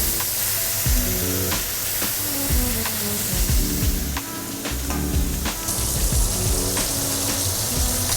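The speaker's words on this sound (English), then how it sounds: "so I'm gonna sear it for 5 minutes on medium high, both sides, and then finish it off in the oven" Steak searing in a hot pan over medium-high heat: loud, continuous crackling sizzle with scattered pops and spits, close and steady throughout.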